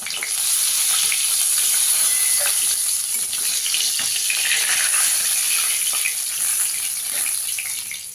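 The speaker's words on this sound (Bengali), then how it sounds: "বাকি মাছটাও ভেজে নেব আমি" Fish frying in oil in a wok, a loud, continuous close-up sizzle with crackling pops and some stirring, steady throughout and without any talking.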